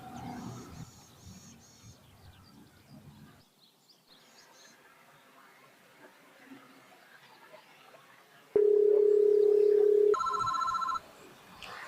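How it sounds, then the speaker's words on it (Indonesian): A telephone rings during a Sundanese school drama performance, a loud electronic ringtone tone held for a couple of seconds before a higher chirping ring, following quieter ambient room sound. "abdi nuju angkat telepon heula nya"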